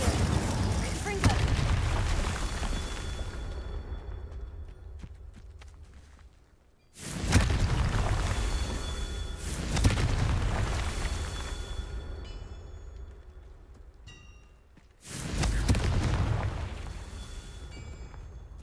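Confringo blasting spell explosions in Hogwarts Legacy, three loud booming detonations at regular intervals, each with a rumbling decay that fades before the next blast.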